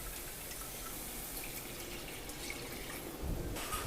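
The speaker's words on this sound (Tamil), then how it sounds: "இப்போ நம்ம இது கூட கேசரிக்கு தேவையான தண்ணி சேர்த்துக்கலாம்" Water, two cups for one cup of semolina, is poured into the pan for pineapple kesari, making a continuous soft splashing and trickling that ends in a brief heavier gush.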